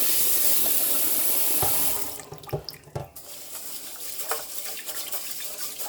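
Rice is rinsed under a running kitchen sink tap: a steady rush of water gives way to irregular swishing, sloshing and splashing as the grains are stirred by hand.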